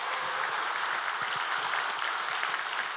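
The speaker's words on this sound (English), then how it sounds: "Let's have a very warm round of applause for Scott" Audience applause on the Microsoft Ignite stage: a dense, even wash of many hands clapping, sustained throughout at moderate volume.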